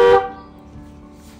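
Horn of a Mahindra Scorpio N, a single short honk close by, fading into a quiet cabin.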